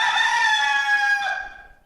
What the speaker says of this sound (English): Before the barn door strutted the gallant rooster.